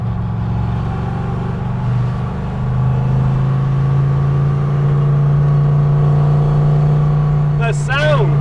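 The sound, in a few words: sports car engine accelerating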